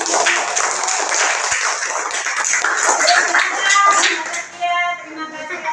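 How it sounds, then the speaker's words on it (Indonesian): Students and audience applaud after a group presentation in a classroom, a burst of mixed clapping and shuffling with murmured voices underneath, tapering off toward the end. "Beri tepuk tangan"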